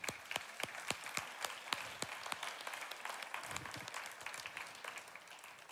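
A church congregation claps together to acclaim the Lord. The sharp, rapid hand claps come from many people, begin as distinct strikes and then blend into a steady wash of applause.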